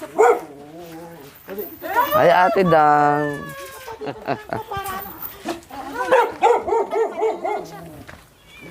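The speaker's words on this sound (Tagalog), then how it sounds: "Bakit galit sa akin yung aso mo?" A dog barks angrily in short, sharp bursts close by, repeatedly, at a visitor while people talk and greet each other over it.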